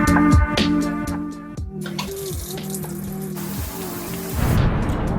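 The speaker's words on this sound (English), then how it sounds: "so now I'm gonna go take a shower" Water runs steadily from a shower with pipe-like humming tones and splashing that swells and shifts as the flow changes, loud and close, with no talking.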